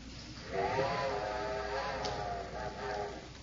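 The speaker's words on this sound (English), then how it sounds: "I'm afraid that's my train, Throckmorton." A steam train whistle in a radio drama, a faint, slightly distant steady tone lasting about three seconds over low background hiss.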